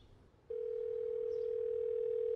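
A steady, continuous telephone dial tone comes in abruptly after a brief quiet moment and holds loud and unbroken to the end while a call is being placed.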